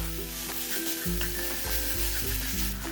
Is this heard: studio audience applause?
no